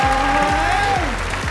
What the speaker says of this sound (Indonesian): tepuk tangan sekali lagi buat Kikoy.